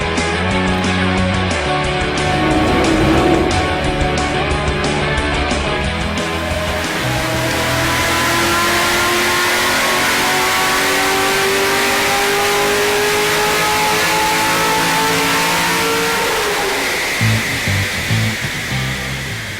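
A Corvette Z06 LS7 V8 fitted with a FAST LSXR intake manifold, revving on a dyno, rising loudly into a long sustained howl at high rpm before cutting off and settling near the end.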